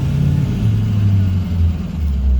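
A 2006 Ford F650 truck with a VT365 6.0L diesel and a no-power-under-load fault, its engine revving hard at full throttle in a loud, close, rumbling drone that climbs and dips briefly without talking.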